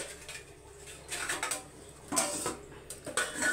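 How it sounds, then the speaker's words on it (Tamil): A metal lid set onto a cooking pot on a home stove while preparing radish sambar, producing a few light clanks and clinks scattered over a quiet kitchen background. "இப்போ இதை ஒரு மூடி போட்டு மூடிடலாம்."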